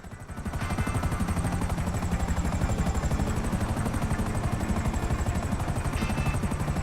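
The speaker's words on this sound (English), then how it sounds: "I'm just a helicopter with like crazy amounts of weaponry on it." A helicopter flies in Grand Theft Auto V on PS4, its rotor chopping in a fast, steady beat over a droning engine whine that stays loud and close.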